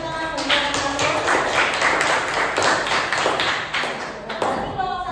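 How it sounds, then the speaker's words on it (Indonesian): Applause from a classroom of junior high school students, a dense, steady patter of many hands clapping at close range for about five seconds before thinning out near the end. "Berikan tepuk tangan bagi yang masuk."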